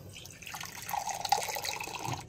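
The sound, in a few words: pouring water into a blender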